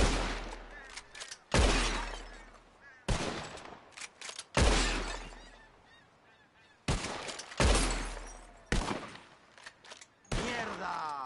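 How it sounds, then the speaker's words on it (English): Gunshots ring out in a Red Dead Redemption II bottle-shooting contest, with about seven sharp, loud cracks at irregular intervals, each trailing into a short ringing decay of shattering glass and echo, with no talking. "Whoever shoots more of these bottles, wins."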